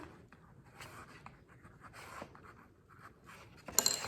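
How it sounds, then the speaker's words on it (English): A pencil scratches across eggshells as labels are written on eggs before incubation, a soft continuous scribbling with short strokes and pauses, close and quiet, ending in a brief louder scrape. "So I'm gonna list these with a B with my pencil."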